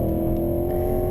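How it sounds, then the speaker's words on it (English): Steeda Q500 pulling hard down the front stretch of Sebring's club course, a loud, steady engine whine with a strong low growl, heard in one brief continuous burst. "Accelerating down the front stretch"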